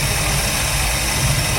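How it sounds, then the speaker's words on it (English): A 1969 Corvette engine idles in a 1963 Impala two-door Super Sport with a four-speed, giving a steady, close, low rumble that holds even throughout, with no talking. "And you listen to the motor, go up front under the engine compartment."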